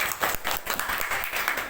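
A classroom of students claps for a classmate's handwriting, a brisk, close burst of uneven hand clapping with audible individual claps pulsing through the short round.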